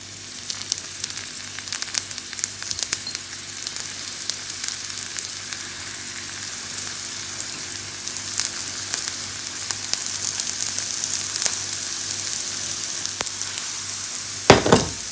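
Gyoza fry in a hot, oiled frying pan with a steady, bright hiss and sizzle throughout, and a short clatter near the end.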